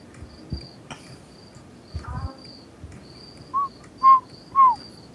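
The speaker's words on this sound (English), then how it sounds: "The crickets are perfect for the silence." Crickets chirp steadily in a quiet room, a thin high pulsing trill running throughout, with a few soft knocks and short whistle-like tones near the end.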